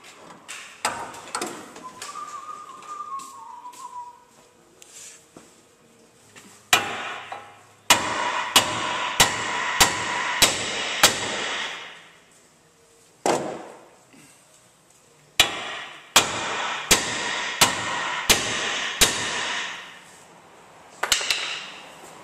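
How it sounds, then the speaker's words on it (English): Repeated sharp metallic hammer blows on a lower control arm ball joint of a Ford Ranger 4WD ring out in quick bursts with short pauses between groups, close and loud, with no talking. "we'll take a hammer to this to loosen up the ball joint on the lower control arm"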